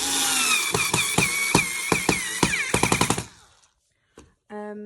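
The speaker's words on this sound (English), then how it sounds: "we're using our hand held device to screw these in those holes as such" Handheld power screwdriver driving screws into an IKEA KRITTER bed frame, loud close rapid clicking bursts as the screw spins in, then the motor stops and a brief whir follows.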